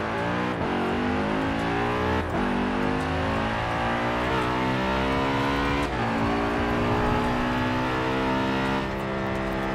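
An Audi's engine revs hard in Forza Horizon 4, loud and continuous, rising and falling through several gear changes with steady driving noise underneath.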